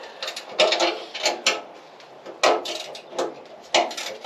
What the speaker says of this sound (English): So using a ratcheting wrench, which works.